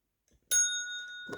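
A single bright bell ding sounds during Maine Coon cat training, striking sharply and ringing on with a clear sustained tone, with a faint rustle just after.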